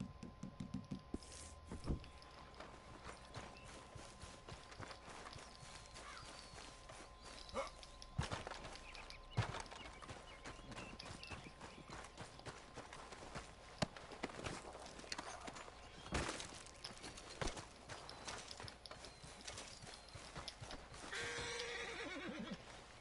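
Horse hooves clop steadily in Red Dead Redemption 2, an irregular rhythm of hoofbeats with occasional whinnies and knocks, fairly quiet throughout.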